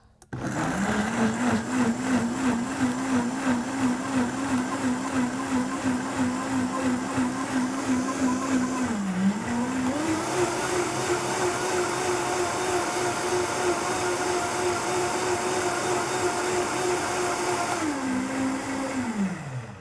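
A Vitamix blender blending fresh orange juice runs as a loud, steady motor whine for the whole stretch, dipping briefly and rising again as the speed shifts, close and alone without talk.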